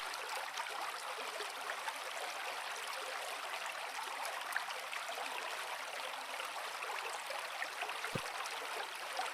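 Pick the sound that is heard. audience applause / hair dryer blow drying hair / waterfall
waterfall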